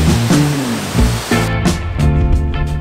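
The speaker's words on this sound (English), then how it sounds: "I like the waterfall coming out of the cave here." A waterfall pours out of a cave near Etna in a loud, close, continuous rush of falling water with rough surging pulses.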